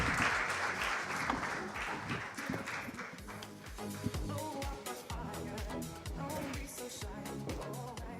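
Applause from a conference audience welcoming a panel on new cities, heard faint and somewhat distant, with busy irregular claps and room noise throughout and no clear speech.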